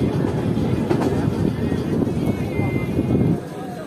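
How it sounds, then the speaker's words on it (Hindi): A passenger train on the New Delhi–Guwahati Purvottar Sampark Kranti route rumbles steadily through a heavy curve into New Bangaigaon Junction, with continuous wheel and carriage noise and faint squeals, and a voice talking over it. "ये इस हैवी कर्व के साथ जो अपनी ट्रेन अब पहुंच रही है न्यू बंगाईगांव जंक्शन।"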